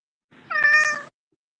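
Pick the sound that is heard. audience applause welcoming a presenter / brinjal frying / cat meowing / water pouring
cat meowing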